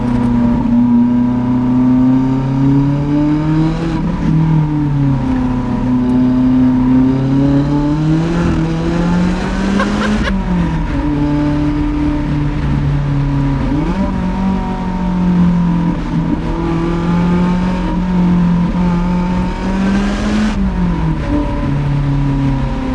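A Lotus sports car engine, an Exige or Elise, drives an Alpine mountain road, holding a loud, steady drone with rising revs and several sharp downshift blips in quick succession, close and continuous with no talk.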